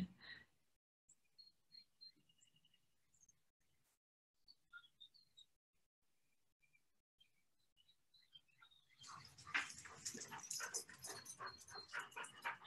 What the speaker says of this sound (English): The dogs are running in the back.